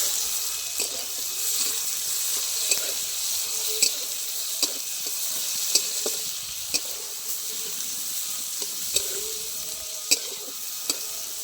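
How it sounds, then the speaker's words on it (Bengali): Chopped onion frying lightly in oil with whole garam masala for Bengali potol chingri, a bright, steady sizzle close by, punctuated by regular sharp spatula taps against the pan. "এবার পেঁয়াজ কুচি দিয়ে দিচ্ছি পেঁয়াজটা হালকা করে ভেজে নেবো"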